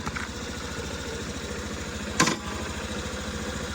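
A 2017 Honda Benly scooter with a fuel-injected, water-cooled four-stroke engine idles nearby in a steady, low putter, with a single short knock or click briefly cutting across it midway.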